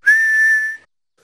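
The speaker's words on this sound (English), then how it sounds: "I'm whistling. Oh. Whistling is fun." A single clear human whistle from a cartoon character, one steady sustained note lasting under a second, loud and close, then silence.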